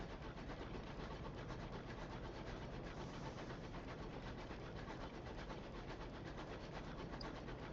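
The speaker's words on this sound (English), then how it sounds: "I was wondering why I didn't have my train noises" In the video game Sunless Skies, a sky train's engine gives off a steady, dense, rhythmic chugging rumble with a faint rattle, continuous and even throughout.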